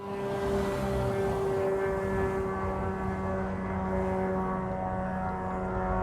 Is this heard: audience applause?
no